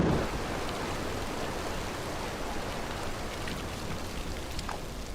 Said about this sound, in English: Back on Okinawa, torrential rain now turned the battlefield into a quagmire.